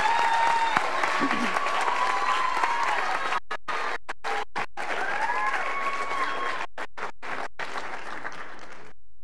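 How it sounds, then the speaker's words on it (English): Sustained applause with cheering fills a graduation service as a graduate is honored, steady and fairly loud throughout, broken by brief dropouts in the sound. "So let's also cheer for them."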